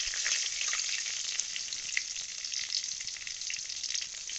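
Bay leaves, dried chillies and whole cumin frying in hot oil, a steady bright crackling sizzle with small pops throughout, close and fairly quiet, no voices.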